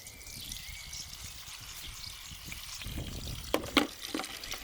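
Water pours steadily into a dish holding salted fish, with a continuous close hiss, ending with a few clinks and splashes.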